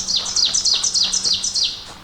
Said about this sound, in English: Beautiful bird songs too.